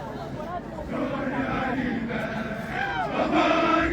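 A section of new gendarmes performs a haka war chant: a crowd of rhythmic shouting voices, loud and sustained, building toward the end.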